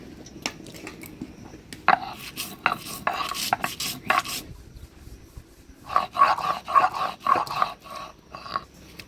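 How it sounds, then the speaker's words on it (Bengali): Coriander, cumin and chilies are ground on a flat stone slab in a village kitchen, giving rough rasping strokes in irregular bursts, then a quicker rhythmic run of grinding. "এবার এই পাটাতেই ধইনা জিরা আর লঙ্কা দিয়ে বাইটে নিব"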